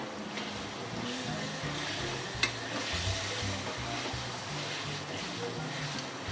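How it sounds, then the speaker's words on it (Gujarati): Mashed potato filling stirred in a pan for a Mysore masala dosa, a steady soft sizzle and scraping that runs throughout at moderate level, with one brief clink near the middle. "એમાં હવે આપણે બટેટાનો માવો નાખશું આપણે મિક્સ કરી લઈએ"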